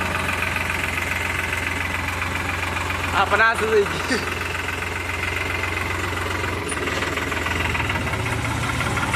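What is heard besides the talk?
loaded tractor engine running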